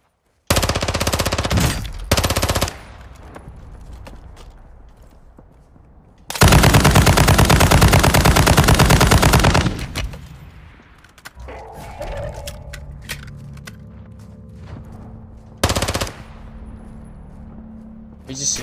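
Automatic gunfire in Warzone 2.0, loud sustained bursts of rapid shots with quieter gaps between them.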